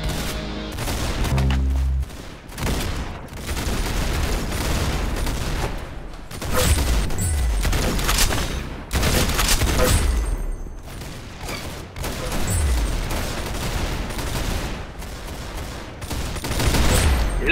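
Gunfire in a shooter video game bursts continuously as rapid automatic volleys, with booming low thuds mixed in. Loud and dense throughout, with only brief gaps between strings of shots and no voices.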